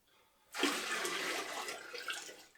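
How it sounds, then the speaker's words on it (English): Water poured from a 2 litre measuring jug into an all-grain mash and boil system makes a steady, fairly soft splashing rush that starts suddenly and then continues. "So I've got a 2 litre measuring jug here, so I'll put another 2 litres in"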